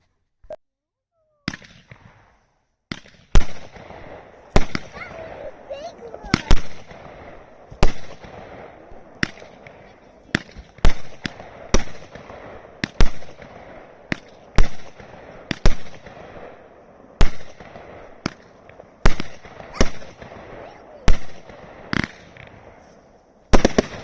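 A Brightstar Concert Lights 200g firework cake fires repeatedly outdoors, each shot a sharp crack or boom with crackling tails, about two dozen blasts in an uneven, rapid sequence.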